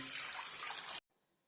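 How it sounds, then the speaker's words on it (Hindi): Water pours steadily into a cooking pot, four cups' worth, as the first step of a jaggery and semolina halwa. The broadband rush runs evenly for about a second, then stops abruptly and leaves near silence. "एक बर्तन के अंदर 4 कप पानी डालेंगे।"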